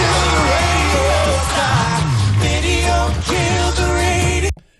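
A live television audience at a Sing Off a cappella performance erupts into loud cheering and whooping over the singing, with the sound filling the whole stretch before cutting off abruptly near the end.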